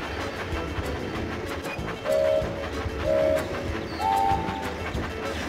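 A train engine runs along the track in the video game Thomas and Friends Magical Tracks, with a steady rolling clatter and three short tonal whistle toots spaced about a second apart.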